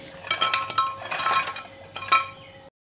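Crispy fried sweet patties (meethi tikiyan) clinking and rattling against a container, several bright jingling bursts in a row, close up with no talking.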